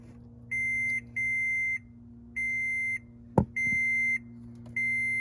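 A steady high electronic beep repeats in regular pulses, about one per second, from a Toyota FJ Cruiser key reminder, with a single sharp click in between over a low hum.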